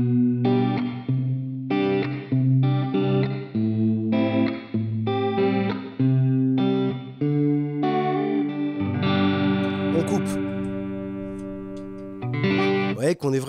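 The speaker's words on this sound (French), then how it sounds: "Je vais monter le mix pour que vous ayez à mort de modulation." Electric guitar through a Universal Audio UAFX reverb pedal with the mix raised for heavy modulation, choppy chord strums followed by a long, warbling, chorused swell that lingers before a final strum.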